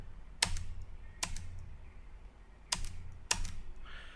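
Computer keyboard keys are pressed while working in AutoCAD, four distinct close clacks in two spaced pairs, with no voice.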